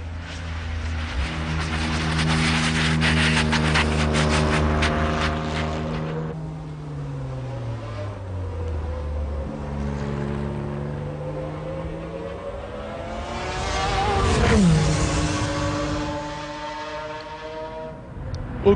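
A 1996 Le Mans race car driven by Derek Warwick, limping along on three wheels, its engine droning and shifting pitch through gear changes, with a louder engine swelling past midway, heard alone without talk.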